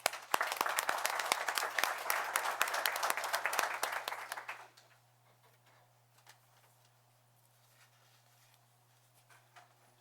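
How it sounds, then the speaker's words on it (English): A town board meeting audience gives Ginny a round of applause: dense, fairly loud clapping from a modest room that stops abruptly about halfway, leaving quiet room tone with faint scattered sounds. "Ginny, give a round of applause"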